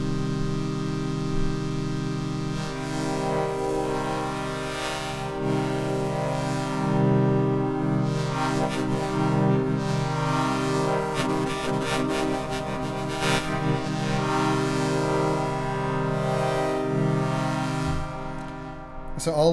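A Percussa mSSP running eight wavetable oscillator voices with an XY-modulated patch, giving a dense, sustained layered synth tone with shifting harmonics and occasional bursts of noisy texture, steady throughout.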